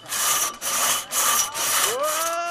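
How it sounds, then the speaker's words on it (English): Crosscut saw cutting wood at a logger sports competition: four loud rasping strokes in quick rhythm, close up, ending in a rising squeal as the stroke changes. "Look how fast that saw is."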